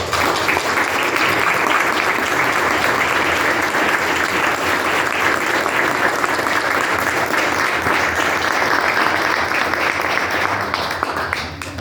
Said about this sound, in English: So Wayne, I want to recognize you, and please join me in applauding Wayne, and we'll come up.